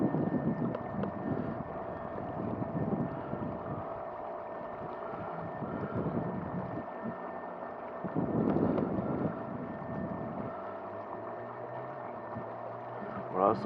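A motorized inflatable kayak drawing about 400 watts runs across water with a steady low motor drone, water wash and gusting wind buffeting the microphone, while someone speaks French over it.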